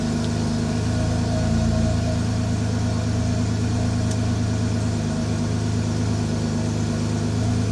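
A BMW E90-series car engine idles steadily nearby, a constant low, even hum with a faint mechanical buzz and no change in pitch, with no voices.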